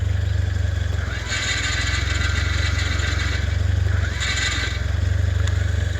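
A remote-controlled toy weapon package with a small motorized gun traversing into position and firing at the press of a button, giving a steady loud buzzing motor drone with bursts of raspy clatter throughout.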